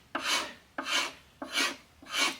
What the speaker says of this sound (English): let's just scrape a little bit with a chisel